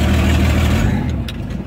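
A car engine lugging at low revs, a deep, loud, labored rumble up close that fades slightly toward the end.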